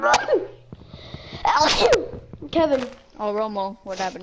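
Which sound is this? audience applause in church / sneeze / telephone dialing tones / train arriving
sneeze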